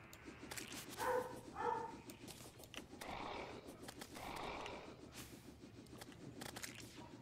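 A dog in the game Terraria gives two quick, faint barks early on. Soft background game noise continues afterward.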